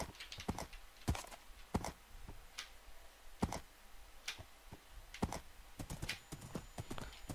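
A Minecraft horse walks along, its hooves clip-clopping in a steady, ticking rhythm of sharp close taps with short pauses between clusters.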